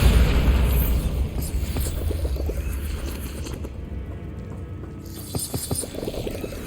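Rumbling explosive booms from the Bombarda spell in Hogwarts Legacy on PS5, a loud low blast that decays into mechanical clattering and debris, with a second softer burst near the end.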